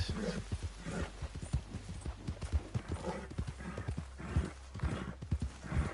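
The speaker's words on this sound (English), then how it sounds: "You frightened my horse." Horse hooves clip-clopping in Red Dead Redemption 2, a quick uneven run of close hoof falls with a whinny mixed in, fairly faint against a low background hum.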